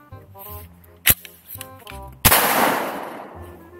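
A Kirici AXL47 shotgun fires a Winchester 2¾-inch low recoil slug, giving one sharp, loud close-range blast with a ringing decay. A softer mechanical snap comes just before it.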